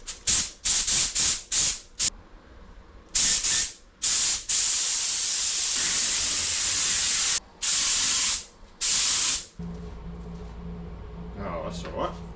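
Spray gun painting a VW Transporter campervan, a series of sharp hissing bursts of varying length, some short and some held for several seconds, close by, with brief speech near the end.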